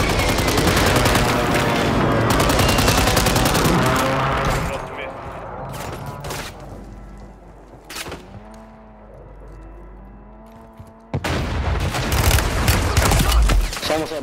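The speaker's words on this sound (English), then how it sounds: "Strike inbound." Airstrike fire mission in a first-person shooter battle royale match: dense bursts of loud gunfire and explosive booms open the scene, easing into scattered shots and thuds, then another heavy barrage of blasts and fire erupts near the end, with game voice lines mixed in.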